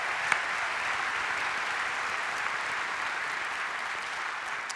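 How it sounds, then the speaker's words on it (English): Sustained applause from a convocation audience for award recipients, a dense, even wash of clapping with no talk over it. "Why don't we give them all another big round of applause."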